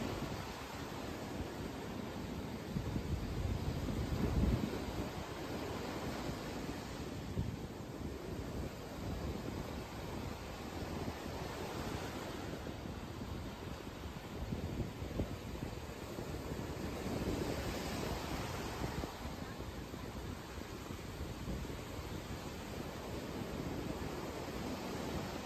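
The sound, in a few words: sea waves on the shore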